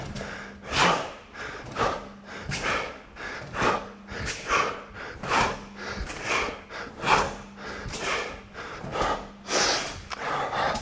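Heavy rhythmic breathing during a training exercise, repeated sharp inhales and forceful exhales roughly every second, close and steady throughout with no talk.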